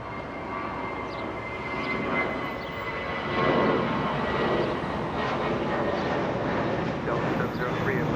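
An airliner on final approach to Los Angeles International Airport roars steadily as it comes in to land, a broad sustained engine rumble that swells slightly midway, with radio chatter alongside.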